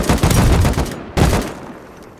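Rapid bursts of video game gunfire crack out in two loud volleys, the second shorter, fading into a faint tail with no talking.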